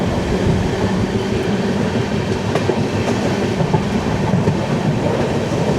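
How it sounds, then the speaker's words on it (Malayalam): A passenger train with a new LHB rake runs through Kadakkavoor station without stopping, heard from aboard as a loud, steady rumbling roar with faint rhythmic wheel clatter and occasional clicks, no talking. "അതാ നമ്മൾ കടക്കാവൂർ സ്റ്റേഷനിലേക്ക് പ്രവേശിക്കുകയാണ്. Kadakkavoor station run through."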